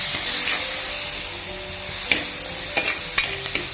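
Chopped ingredients for a varutharacha choora (tuna) curry sizzle and fry steadily in a hot pan, with a few sharp stirring clinks and scrapes near the end and no talking.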